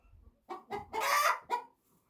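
A few short, close clucks from a chicken, a quick burst of four or five calls with one longer squawk in the middle.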